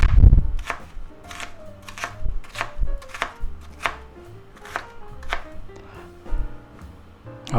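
Knife chopping a slice of Vidalia or yellow onion on a cutting board, a run of sharp, close, irregular thuds with short pauses between bursts, heard alone without talk.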